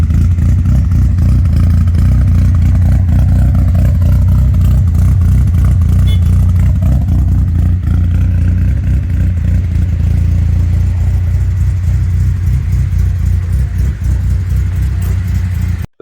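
A street-tuned project car engine runs loud and close for a long stretch, its rough, steady idle and revs droning with a constant low rumble and mechanical clatter.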